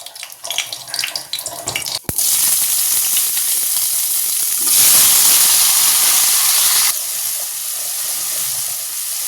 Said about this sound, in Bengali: তেল দিয়ে দিয়েছি কড়াই, এবার দেবো ফোড়ন, শুকনো লঙ্কা আর সর্ষে ফোড়ন দেবো।